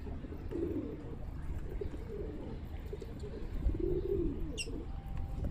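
Pigeons coo softly in a low, rolling murmur, a couple of throaty phrases over steady outdoor background noise.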